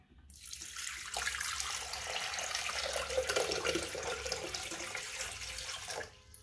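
Water pours steadily into the bowl of a Thermomix kitchen robot, a continuous close splashing rush lasting several seconds before it stops abruptly.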